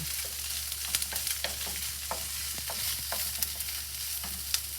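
Vegetables cooking in a pan on a stove, giving a continuous soft sizzle over a low hum, with scattered light clicks and stirring scrapes, close-up and without talking.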